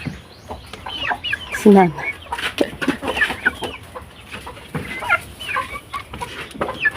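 Pet chickens clucking and squawking close by while being fed, busy overlapping clucks in an uneven rhythm, with a person speaking briefly among them.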